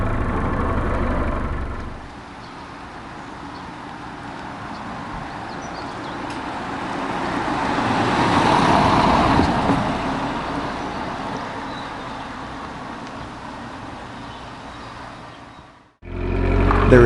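A 1989 Nissan Sunny B12 sedan driving along, its quiet engine and road noise forming a steady interior drone that swells gently midway and then cuts off abruptly near the end.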